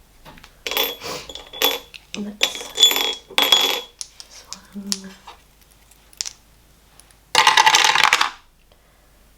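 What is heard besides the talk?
dice being rolled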